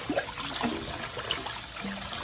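Water running and splashing steadily in a kitchen sink as mustard greens are washed, a constant close trickle with faint handling bumps.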